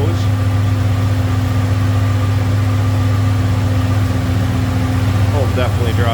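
A 1984 Chevrolet El Camino with a 350 V8 idles in a steady low hum, with someone talking over it near the end.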